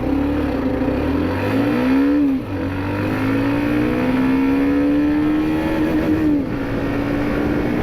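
A Hero Xtreme 125R motorcycle engine revs close by, its pitch climbing and dropping in a few throttle blips over a steady idle drone, loud and alone with no talking.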